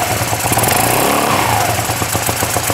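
Steady, close running of an old scooter engine, likely an MBK, Vespa or Piaggio, with an even, buzzing idle throughout and no talk.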